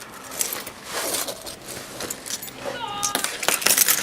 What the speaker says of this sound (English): Got a whole bunch of car keys and a whole bunch of cars.